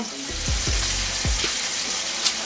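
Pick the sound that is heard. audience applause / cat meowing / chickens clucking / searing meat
searing meat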